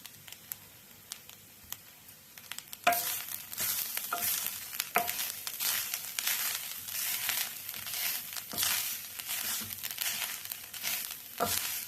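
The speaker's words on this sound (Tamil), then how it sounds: "ஒரு பெரிய தேங்காய் எடுத்து துருவி அப்படியே வந்து கடாயில் போட்டு அடுப்பில் வச்சு வறுத்துடலாம்" Grated coconut roasts and is stirred in a kadai on the stove. It begins as quiet crackling and then turns into loud, dense sizzling with scraping stir strokes, close up, and no one speaks.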